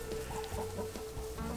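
Chickens in a covered outdoor pen cluck softly and repeatedly nearby, with a steady low hum underneath and no talking.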